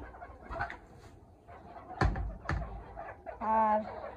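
Chickens and a rooster on a village homestead, giving short clucks and one brief crowing call near the end, with two sharp knocks in the middle, under faint background noise.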